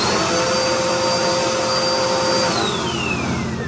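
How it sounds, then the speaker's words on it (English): A Flowbee vacuum cleaner runs steadily during a haircut, a loud, close, constant whirring roar with a high tone that drops slightly in pitch near the end. "So again, the vacuum cleaner,"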